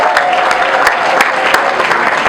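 Audience at a church gathering applauding in acclaim of God, a dense burst of close, loud clapping with sharp individual claps standing out, continuous throughout.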